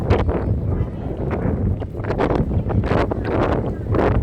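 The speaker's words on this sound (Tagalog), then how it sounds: "Lakas kasi ng hangin." Strong wind buffets the microphone in rough, gusty rumbles at Monte Maria in Batangas, with bursts of voices mixed in.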